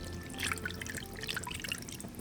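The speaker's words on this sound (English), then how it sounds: "And now we return the strained liquid back into the pan." Strained braising liquid from beef rolls poured back into a pan, a quiet trickle with scattered drips.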